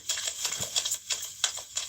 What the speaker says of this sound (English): My cat just went rifling through a plastic bag